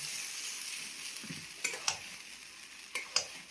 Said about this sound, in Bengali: এটা ভেজে নিতে হবে একদম